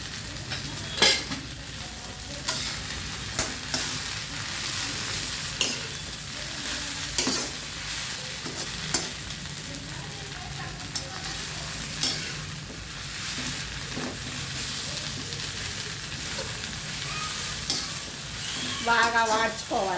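Mint leaves frying in a little oil for a ground mint chutney give a steady close sizzle, broken by scattered stirring scrapes and clinks.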